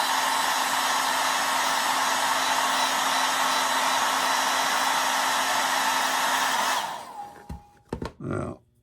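A hair dryer blows steadily and loudly on wet paint on a goldfinch painting, a constant close whoosh that cuts off near the end, followed by a few brief clunks and handling noises.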